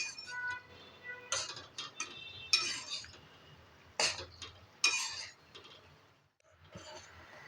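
Amla pieces for morawala are stirred in a pan with a utensil, making intermittent scraping and clinking strokes in short bursts with quiet gaps between them.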